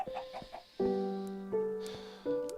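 Chickens in the video game Minecraft cluck in short repeated calls, with a few sustained tonal sounds in the background; no one talks.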